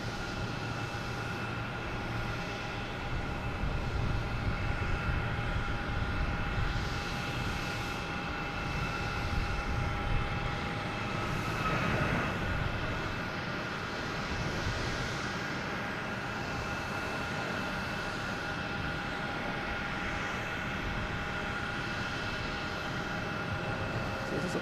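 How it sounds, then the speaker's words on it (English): A Southwest Boeing 737 MAX 8 jet takes off at Boston Logan Airport, a steady, moderately distant engine roar that rises slightly at times and holds throughout. "Also have a Southwest taking off, heading to Denver. 737 MAX 8, flight 3908."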